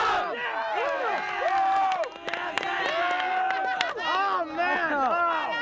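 High school boys' cross country runners at the Division III state championship in Wisconsin shout and cheer together in a loud, close crowd, with overlapping voices and whoops rising and falling throughout.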